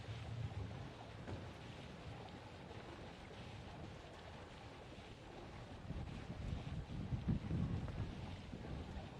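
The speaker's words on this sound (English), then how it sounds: "Listen to that wind rip through, Natalie." Strong wind roars continuously around a 15-meter high diving platform at a junior world championship, with steady broadband rush swelling louder in gusts near the end.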